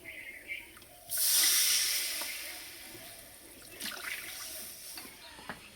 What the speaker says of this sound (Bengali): এবার জল দিয়ে দেবো, তো এই বাটি 2 বাটি জল দেবো।